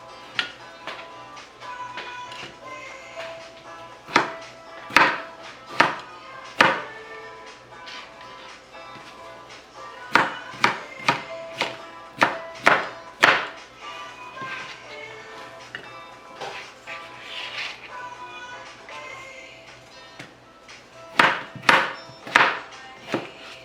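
Vegetables for an orzo salad chopped into cubes on a cutting board, bursts of sharp knife thunks in quick runs separated by quieter stretches, close and clear.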